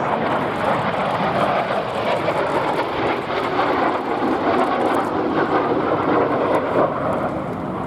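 Hawker Siddeley Gnat jets roar overhead on a topside pass at the Duxford airshow, a loud, continuous broadband jet rush that holds steady throughout with no talk over it.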